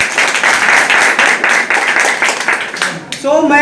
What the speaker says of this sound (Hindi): सबके लिए एक जोरदार ताली